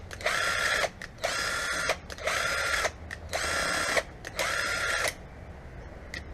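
Power tool bursts on car bolts of a Ford EB Falcon K-frame, likely an impact wrench working them loose: five loud, close whirring runs of roughly a second each, separated by short pauses, with no voices.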